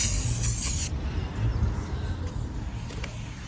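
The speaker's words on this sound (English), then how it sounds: "You just pass them over a light coat of brake cleaner." Brake cleaner sprays onto new brake rotors for a company van, a loud close aerosol hiss that runs for about a second, then a quieter lingering hiss continues.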